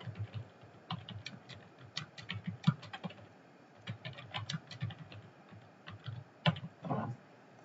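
A computer keyboard is typed on at close range, with uneven bursts of soft clicking keystrokes and brief pauses between the runs of keys.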